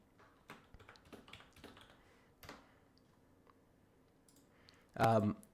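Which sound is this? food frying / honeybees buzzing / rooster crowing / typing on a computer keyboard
typing on a computer keyboard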